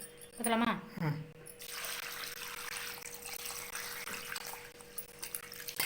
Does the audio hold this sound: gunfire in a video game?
no